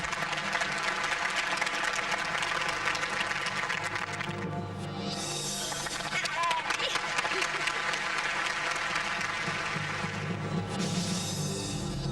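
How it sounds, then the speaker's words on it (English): Sustained crowd applause for a magic act, a steady, dense wash of clapping that carries on for several seconds with faint voices mixed underneath. "Give me a round of applause."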